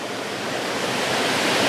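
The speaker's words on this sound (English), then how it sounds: "You've got the water running through the frame" A Lake District stream running beside Borrowdale mill, a steady rushing wash of water that grows slightly louder, close by and heard alone.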